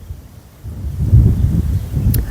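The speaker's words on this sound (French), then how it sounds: "Du vent encore, hein, dites" Outdoor wind buffets a microphone with low rumbling gusts that swell after a quiet start and stay close and loud to the end.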